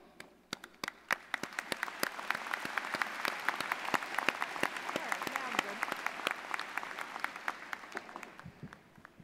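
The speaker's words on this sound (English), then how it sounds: "we join your family and friends in applauding you" Audience applauding graduates at a UMass Lowell College of Sciences commencement ceremony, a large hall filled with rising, sustained clapping with sharp individual claps standing out, tapering off at the end.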